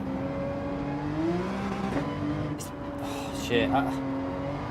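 Porsche engine in Gran Turismo 7 holding a steady drone with rising revs, a sharper surge near the end, while someone talks briefly over it.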